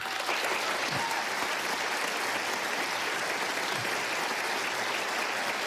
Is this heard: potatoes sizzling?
no